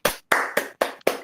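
Five separate sharp claps sound close and evenly spaced, a short sparse burst of hand clapping greeting a musician during an interview.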